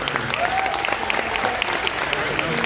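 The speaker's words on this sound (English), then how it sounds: "Another round of applause for" An audience at a film Q&A screening gives a round of applause, a dense, continuous patter of many hands with a few voices faintly mixed in.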